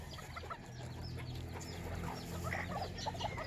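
Bantam chickens cluck in short, overlapping bursts at moderate distance, a busy chatter of several birds over a low steady background.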